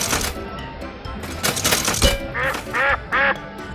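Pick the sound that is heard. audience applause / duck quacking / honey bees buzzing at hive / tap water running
duck quacking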